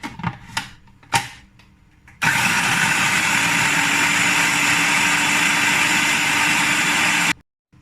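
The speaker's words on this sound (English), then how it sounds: "now I will blend it" A few clunks and taps, then a kitchen blender starts and runs steadily for about five seconds, blending hummus made with olive oil, loud and close before cutting off abruptly.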